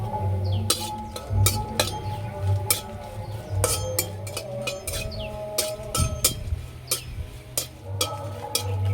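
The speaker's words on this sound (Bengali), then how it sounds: "শুকনো লঙ্কাটা আগে দেব, আর শুকনো লঙ্কা ভাজতে একটু সময় লাগে" Dried red chillies sizzle in a wok on the stove, while a metal spoon clinks and scrapes against the pan in irregular bursts close to the mic, over a low steady frying hiss.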